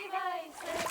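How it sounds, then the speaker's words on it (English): A stone thrown into water splashes in Kingdom Come Deliverance 2, a single brief, faint splash that comes after a short tonal sound, quick and quiet. "Throw a stone in the water near her to lure her away."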